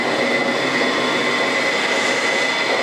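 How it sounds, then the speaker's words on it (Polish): Machinery of a lift in an interactive museum on the Zugspitze runs steadily after its wheels spin up, giving a loud, constant mechanical roar and whir with no break and no talking. "koła się rozkręciły. Ale zobaczcie, maszyneria ruszyła."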